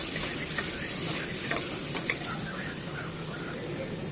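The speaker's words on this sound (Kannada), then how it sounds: "ಎಲ್ಲ ಹಾಕ್ಕೊಂಡು ಚೆನ್ನಾಗಿ ಫ್ರೈ ಮಾಡ್ಕೊಳ್ಳಿ" Mutton with capsicum and tomato fries in a pan for sambar, giving a dense, continuous sizzle with a few faint stirring scrapes, close and steady.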